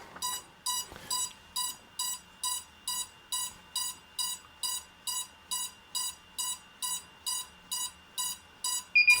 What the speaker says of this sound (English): It'll go beep beep.